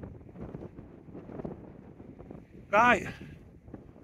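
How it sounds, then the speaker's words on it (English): Wind buffets the microphone on an exposed hilltop near Wild Bank trig point, a steady low rumble throughout with a brief spoken word breaking in near the end. "bit windy."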